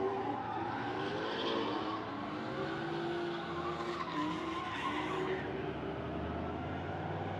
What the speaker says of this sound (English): I'm gonna put it up some of this great drifting right now.